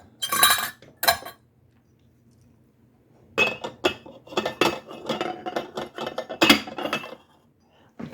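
Glass and metal clinks as a lid is set onto a vintage Pyrex glass percolator, a couple of bright taps and then a run of clattering handling, with no talk.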